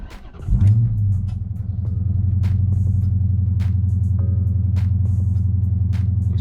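Chrysler 300 engine cranking and catching with a sharp start-up surge, then settling into a steady, low idle rumble close by, with a few faint clicks and chimes on top.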